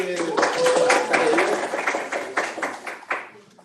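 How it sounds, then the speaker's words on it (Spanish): A classroom of pharmacology students claps for a classmate, a burst of scattered hand claps of moderate loudness that thins out toward the end, with voices murmuring underneath. "Un aplauso para Rocío."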